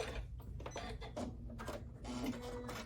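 A sewing machine runs steadily as it stitches fabric circles for a jewelry bag, a continuous close mechanical whir with rapid needle rhythm speeding up slightly before a back stitch.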